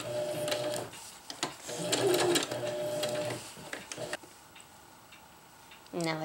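A sewing machine running zigzag stitches along the frayed edge of a fabric stuff sack, with fast rhythmic mechanical ticking and whirring in steady bursts, close by, with a pause and then a brief restart near the end.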